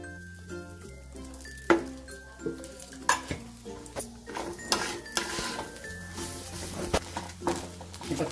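Cashews roast in a little oil in a pan, with soft sizzling under repeated scraping strokes and sharp metallic clinks of a spoon against the pan. The stirring comes in an uneven rhythm, close and moderately quiet.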